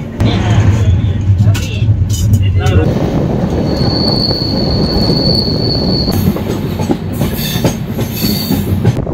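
Steady rumble of a moving passenger train in Madhya Pradesh, loud and continuous throughout, with wheels rattling on the tracks and a brief high squeal partway through.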